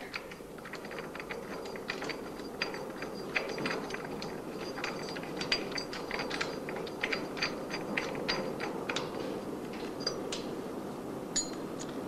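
Ratchet tightening bolts through a mounting on a Robin Hood kit car build, giving rapid close clicking bursts with scattered sharper ticks over steady workshop noise, continuous for the whole stretch.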